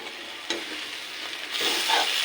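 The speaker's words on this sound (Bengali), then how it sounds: "নারকেল দিয়ে কাঁচামরিচ হলুদ লবণ দিয়ে সর্ষে ফোড়ন দিয়ে এটা ভেজে নেব" Grated coconut fries in a pan with green chili, turmeric, salt and mustard seeds, a steady soft sizzle that swells louder in the second half, with a faint stirring scrape and no voices.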